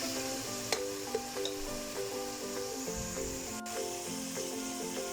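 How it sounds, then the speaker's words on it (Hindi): Spice masala with tomato is stirred and roasted in a pan on a medium flame, giving a steady soft sizzle with occasional scraping strokes under a continuous tonal background. "इसे अच्छी तरह से मिक्स करके भूनेंगे हम"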